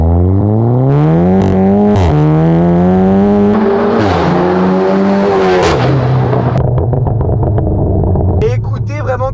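Volkswagen Golf 7 GTI Clubsport with a Ragazzon full straight-pipe exhaust and no silencers, revved hard and close: a loud engine note climbs and drops in several sweeping pulls, then settles into a rough, crackling burble near the end.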